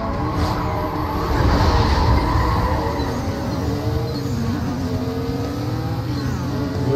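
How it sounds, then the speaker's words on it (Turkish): In the racing game Need for Speed Most Wanted, Redux mod, a car revs loudly and shifts gears. The engine roars close and continuous, its pitch rising and dropping through the gear changes, with no talk. "Yolundaki araba ne öyle vites atmasını duydunuz mu?"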